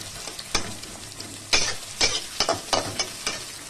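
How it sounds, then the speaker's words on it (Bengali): Onions frying in hot oil for a tarka tempering, a close sizzle broken by several sharp scrapes and clacks of a spatula stirring the pan, with no talk. "পেঁয়াজটা একটু ভাজা ভাজা হবে, তারপরে রসুন আদা ঘষে দিয়ে দেব।"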